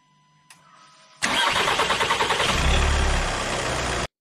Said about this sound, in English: What we can do now is start the engine.